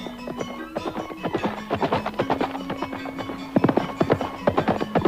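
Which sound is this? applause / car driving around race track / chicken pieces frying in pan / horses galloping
horses galloping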